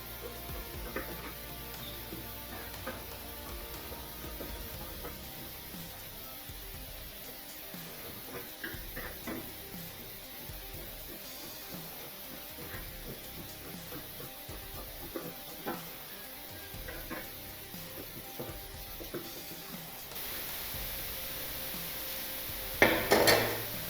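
Scissors slowly cut an open piece of blouse fabric for a three-dart blouse, giving soft, irregular snips and rustles close by over a steady background hiss, with a louder handling noise at the end.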